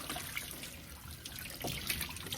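Hummingbird feeder parts are rinsed in a mix of water and vinegar, giving a continuous close splashing and trickling with small sloshes and drips.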